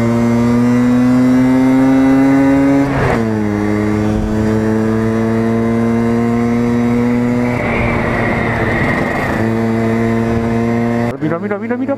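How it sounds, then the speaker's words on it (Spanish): A Vespa scooter fitted with a new carburetor that has not yet been tuned revs loud and close in a continuous buzzing engine drone. The pitch drops and climbs through gear changes before cutting off abruptly at the end. "una aceleración que estuve probando todavía sin carburar, y la respuesta al acelerador era brutal"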